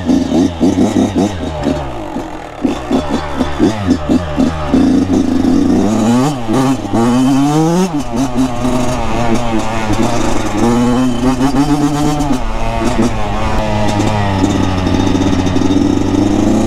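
A 70cc moped engine with its exhaust runs loud and close, revving up and down in rising and falling sweeps before settling into a steady, rough drone.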